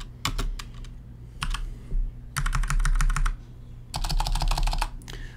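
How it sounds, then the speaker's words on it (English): Keys clatter on a computer keyboard in a few quick bursts of close, crisp clicking with short gaps between them. Nobody speaks. "I can't type on video."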